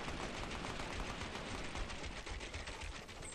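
Sustained rapid gunfire in a Fortnite match, a dense continuous rattle of shots at moderate distance without pause.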